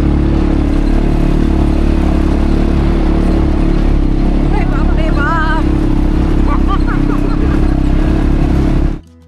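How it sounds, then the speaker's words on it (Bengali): An ATV quad bike engine drones loud and steady at close range on a rough, bumpy track in Solang Valley, with rattling clatter and faint voices in the background until the sound cuts off at the end. "এটিভি বাইক রাইড কিন্তু দারুণ অ্যাডভেঞ্চারাস একটা রাইড"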